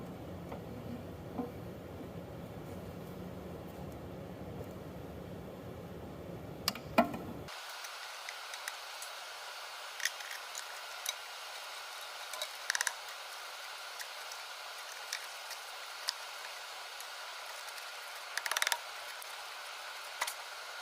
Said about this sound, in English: we need to cut these flogged out battery cables